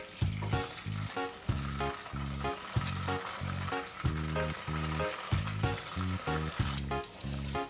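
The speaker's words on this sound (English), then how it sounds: "I'll start by frying the Koobi." Koobi, salted fish, fries in a pan, sputtering in rhythmic pulses of crackling sizzle that rise and fall repeatedly, close and moderately loud, without talk.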